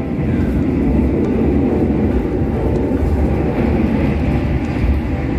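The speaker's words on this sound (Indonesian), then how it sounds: "Dari dalam gerbong kereta" Steady rumbling roar inside a moving economy carriage of the KA Lodaya train, with continuous low rattling and rolling noise throughout and no voices.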